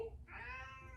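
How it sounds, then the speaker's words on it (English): A pet cat gives a single short, clear meow up close, rising and sustained for under a second in a quiet indoor room. "that's my cat"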